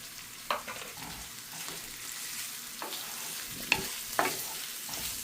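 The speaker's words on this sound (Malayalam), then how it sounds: "ഇപ്പോൾ നമ്മുടെ ഉള്ളിയും മുളകും വെളുത്തുള്ളി എല്ലാം ഒന്ന് വഴന്ന് വന്നിട്ടുണ്ട് ഇനി ഞാൻ ആവശ്യത്തിന് തേങ്ങ ചേർക്കുവാണ്" Sautéed onions, chilies and garlic are stirred in a pan as coconut is added; a faint sizzle runs underneath, broken by a handful of soft scraping strokes.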